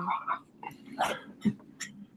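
Dogs bark in short scattered bursts indoors, moderately close, mixed with brief yips amid a background voice.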